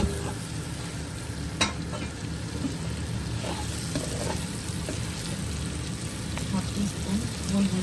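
Shrimp that were fried earlier are tossed back into a hot pan for a Chinese-style stir-fry, and a steady sizzle and scraping stir run throughout, with a few sharp clinks of the utensil against the pan.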